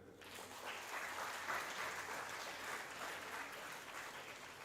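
An audience at a national congress on higher education institutions applauds. The clapping is steady and sustained, heard from across a large hall and fairly quiet.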